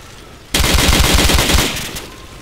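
A loud burst of rapid automatic gunfire in the video game Call of Duty, starting abruptly after a brief quiet moment and rattling steadily for about a second and a half before tapering off.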